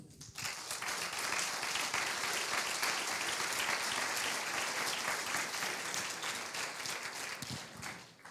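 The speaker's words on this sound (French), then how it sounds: "Je pense qu'on peut les applaudir." Sustained audience applause fills a hall at the close of a round-table session on climate change and ecosystem services during the SudBiodiv'2 conference day, many hands clapping steadily and evenly with no speech over it.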